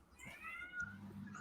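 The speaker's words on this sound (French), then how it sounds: "c'est pas moi qui miaule, c'est mon chat qui miaule" A house cat lets out a single soft, drawn-out meow that wavers and fades, faint and close in an otherwise quiet room.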